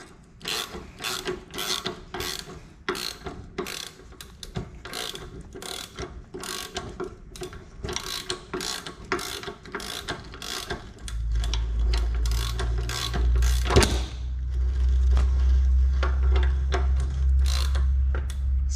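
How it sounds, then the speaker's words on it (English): A hand ratchet tightens the front wheel bearing nut on a zero turn mower, with rapid repeated clicks in short bursts up close, then a louder low rumble joins in the last few seconds. "But to put it back on, I'm going to use a wrench and a ratchet."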